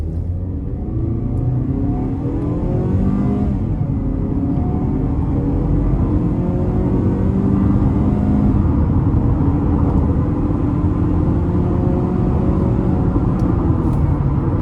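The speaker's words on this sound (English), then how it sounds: "I'm gonna put it into sport mode here, give it a good pull. And this has miles on it, so I'm gonna floor it." A 2025 Mazda CX-50 2.5 S at full throttle in sport mode, heard from inside the cabin: a loud, continuous engine drone rises steadily in pitch over a deep road rumble as the SUV accelerates.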